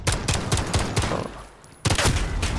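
Rapid bursts of automatic gunfire from a multiplayer shooter game played with friends, loud and close, firing in quick repeated volleys that pause briefly for a reload and then resume.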